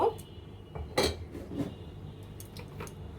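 A metal wok (kadai) with water in it being set down on a kitchen stove, giving a few faint, close clanks and taps of metal, with a sharper clank near the middle and light rattles after.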